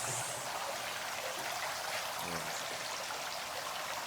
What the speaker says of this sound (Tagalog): meron na tayong pa-shower na pipe dito sa ating mga beds